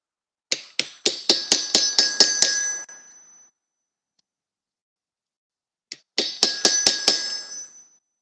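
A hammer striking the soft face of an anvil, two sharp ringing series of about eight quick blows each, loud and close, with a long silent pause between them.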